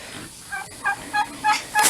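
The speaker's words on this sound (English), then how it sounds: "These are the younger turkeys." Young farm turkeys gobble in a quick series of about five short, rhythmic calls, close and moderately loud, with no talking.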